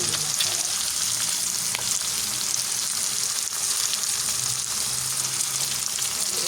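Garlic and round chillies sizzle steadily in hot oil for a tomato chilli curry, a dense continuous frying hiss with a few soft stirring knocks and no voices.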